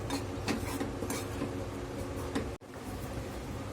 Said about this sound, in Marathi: पीठ आपल्याला गॅस लो टू मीडियम हीटवर ठेवून छान असं भाजून घ्यायचं आहे.